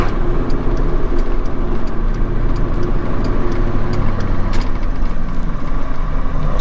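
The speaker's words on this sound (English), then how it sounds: "I'll run it through the gears for y'all" Continuous close engine roar from an OBS Ford Powerstroke diesel truck with a KC300X turbo and PHP 7.3 tune, running through the gears, a dense steady drone with faint ticking clicks and no talk.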